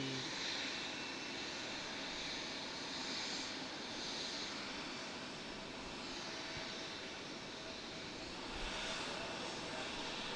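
A Delta Connection 900 regional jet at Raleigh-Durham airport gives a steady, broad jet-engine roar that holds at a constant level throughout, fairly distant and without clear speech.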